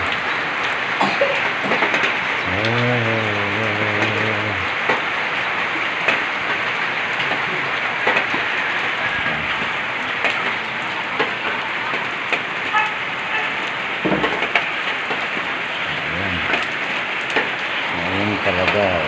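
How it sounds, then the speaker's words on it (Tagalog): Heavy rain pours steadily on a morning, a dense constant hiss that fills the whole stretch while people talk now and then beneath it. "Malakas ang ulan."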